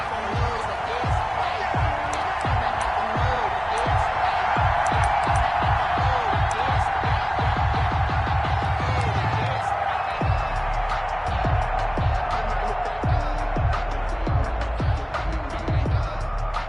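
Stadium crowd in an NFL video game matchup between the Indianapolis Colts and Tennessee Titans, a steady roaring murmur under continuous play-by-play commentary, with rhythmic thumps and bursts of noise throughout.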